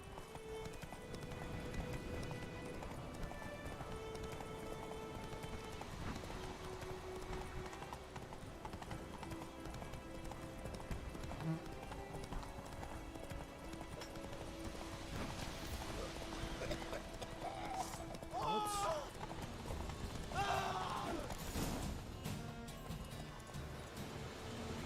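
Roach the horse clip-clops at a steady gait through The Witcher 3 game world, rhythmic hoofbeats under quiet ambient music, with a brief whinny and some other game sounds near the end.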